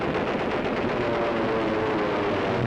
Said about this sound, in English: Fighter planes sweep in with cannon blazing,